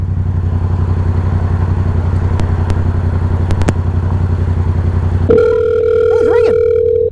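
Phone call ringing tone heard through a motorcycle helmet communicator, starting over a steady engine drone and then sounding as a sustained tone with rising electronic chirps, close and clear.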